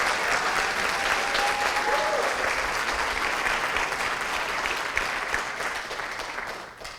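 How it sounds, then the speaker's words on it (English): A crowd at a school early college scholars celebration claps for its graduates in steady, even applause that holds loud throughout and tapers slightly toward the end. "Let's give one more round of applause to all of our graduates."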